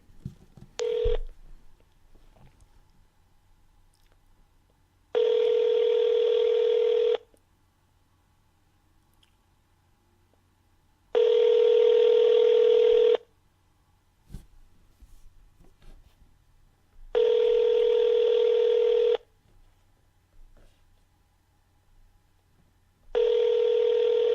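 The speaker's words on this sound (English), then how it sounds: "I'm going to try to call him back just to see if I can get him to talk to me" A telephone call back to a scammer produces a brief dial tone, then a repeating ringback tone, four long even rings separated by quiet gaps with faint handling noise, no voices.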